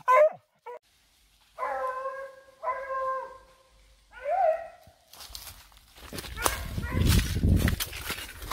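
A hunting dog gives several drawn-out, whining barks and howls with pauses between them, followed by rustling movement and footsteps through brush close by.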